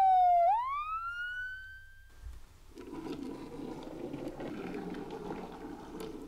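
A toy police car sounds a short electronic siren, a single loud rising-and-falling wail that cuts off quickly, followed by faint handling noise.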